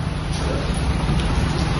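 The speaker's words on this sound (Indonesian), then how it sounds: "Akhirnya bisa merasakan hujan juga di Malaysia" Steady broadband rain in Malaysia, an even hiss of drops with a low rumble beneath, continuous and moderately close with no voices.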